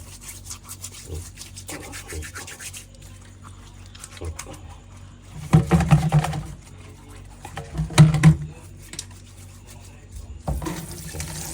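Pork cheek is rinsed under a running kitchen tap, with water splashing and rubbing in two louder bursts over a low steady background.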